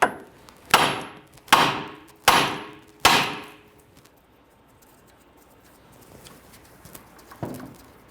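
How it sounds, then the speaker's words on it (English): Four sharp metallic hammer blows on the steering knuckle of a 1994-2004 Ford Mustang to release the tie rod end, evenly spaced and loud, each ringing briefly, followed by quiet shop ambience and a faint clunk. "Now we're going to strike the knuckle with our hammer to release the tie rod end."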